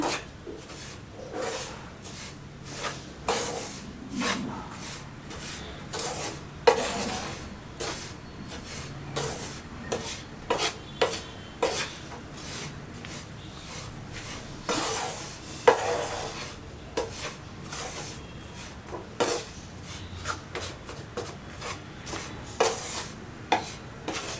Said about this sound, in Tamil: இதையும் அதோடு சேர்த்து நல்லா நம்ம வறுக்கலாம். நல்லா கலந்து விடுங்க.